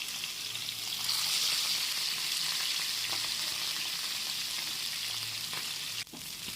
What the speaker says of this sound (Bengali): এবার মাছগুলো আমি বেশ ভালো করে লাল লাল করে ভেজে নেব